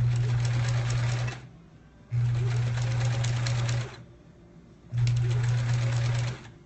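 Sewing machine stitching a quilt block for a sampler quilt, running in three steady bursts of a few seconds each, with a low motor hum and rapid needle chatter and brief quiet pauses between runs.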